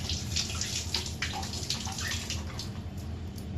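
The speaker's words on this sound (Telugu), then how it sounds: "పక్కన పడేసేసి ఇవి వాటర్లో కడుక్కోవాలి" Raw bananas are washed in water, heard as a continuous close splashing and trickling with faint drips, fairly quiet and without talking.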